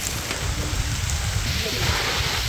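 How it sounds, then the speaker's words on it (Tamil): Steady rain falls outdoors during a cooking session for onion coriander chicken thokku, a dense continuous patter close by with a low rumble underneath. No voices are heard. "அருமையான முறையில் மழை பெய்து கொண்டு இருக்கிறது."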